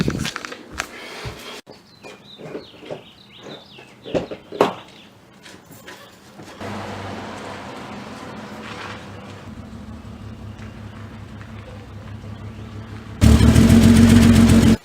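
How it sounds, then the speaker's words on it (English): A 2004 BMW 330i inline-six with its muffler removed, idling as a steady, raspy drone that turns sharply louder and harsher near the end. Clanking, bumping and brief handling noises come before it. "we're running no muffler. That's what it sounds like."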